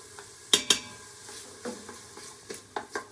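Tomato paste is stirred into onions and garlic in a pot with a spoon, giving several quick clinks and scrapes against the metal over a faint, steady sizzle, close and fairly quiet.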